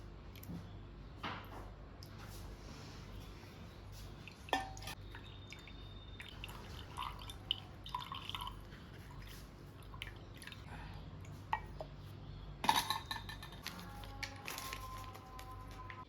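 Ripe jackfruit juice being strained: faint, sparse drips and small wet squishes close by, with a louder splash of liquid near the end.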